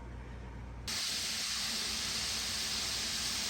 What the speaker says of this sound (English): So my canner just started to let steam out.